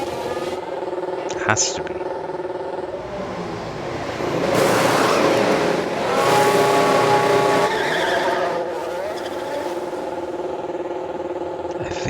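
An F1 car enters the pits in F1 Manager at the French race, with a high engine whine and tire noise swelling in the middle while commentators talk over it.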